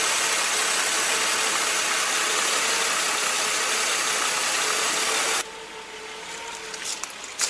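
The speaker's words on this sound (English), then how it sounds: "Sounds lovely, this engine. It's been running for about half an hour actually." A Mercedes engine, recovered from a flat battery, idles steadily with a dense, even mechanical hum close to the microphone, then drops abruptly to a quieter, thinner running sound.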